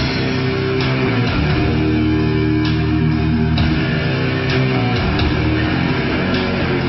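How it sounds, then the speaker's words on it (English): Ambient opening of the Universe at War: Earth Assault game score: steady, dense layered drones and sustained tones with faint pulsing accents, playing continuously at even loudness without voices. "The song actually starts off with an ambient section"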